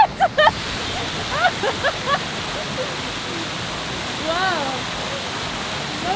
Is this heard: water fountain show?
yes